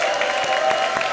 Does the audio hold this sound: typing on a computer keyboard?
no